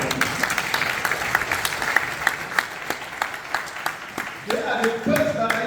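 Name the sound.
audience applause at a lecture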